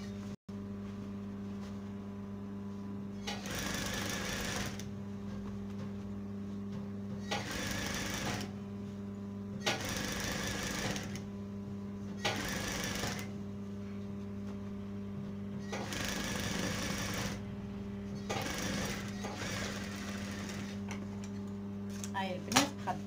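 A sewing machine stitches a pillow cover in short bursts of rapid mechanical whirring, starting and stopping repeatedly over a steady low hum, with quiet talk in between.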